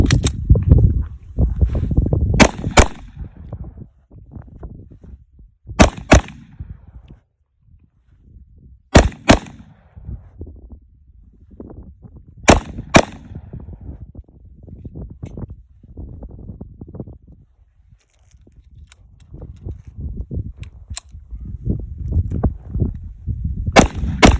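A Tokarev pistol fired in quick pairs and short strings, sharp loud cracks repeating at intervals of a few seconds, with quieter handling noise and low rumble between the shot groups.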